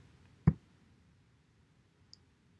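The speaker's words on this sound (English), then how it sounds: "Let's click on that." A single crisp mouse click on a link, quiet and close, followed by a faint small tick about a second and a half later, with silence around both.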